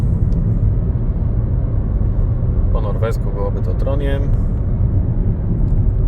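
A Nissan Leaf electric car rolls through Trondheim with a steady low road rumble and tyre noise inside the cabin, while someone talks briefly over it.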